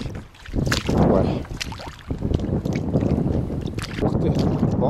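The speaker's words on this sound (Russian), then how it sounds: "дует адский ветер" Strong gusty wind roars across a mud lake shoreline in Crimea, loud buffeting microphone noise running throughout, with a person speaking over it.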